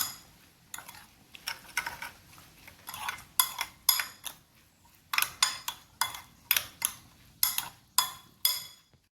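Salted cucumber pieces stirred in a bowl with a spoon, giving a steady run of sharp metallic scrapes and clinks against the bowl, close and fairly loud, with short pauses between bursts.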